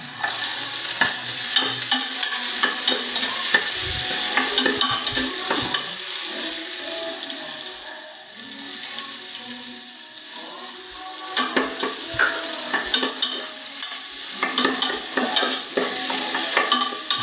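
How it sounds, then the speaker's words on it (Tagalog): Garlic for pork sinigang is stir-fried in a pan, a steady close sizzle with scraping stirs throughout that softens briefly midway before the frying grows loud again, with no talking. "Isayin lang natin hanggang sa medyo mag-brown na yung bawang."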